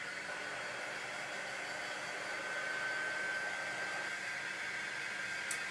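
A hair dryer runs steadily, drying a craft transfer, with a constant even whoosh of moderate loudness and no talk.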